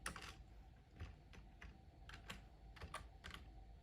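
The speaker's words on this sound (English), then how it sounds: "This is hard because I'm typing with one hand." Someone types on a computer keyboard with one hand, producing soft, irregular keystrokes in short clusters with pauses between, close and quiet in a still room.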